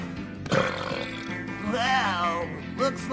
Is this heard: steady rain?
no